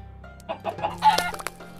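Minecraft chicken in Attack of the B Team clucking several times in quick succession, close and fairly loud, over a faint low game hum.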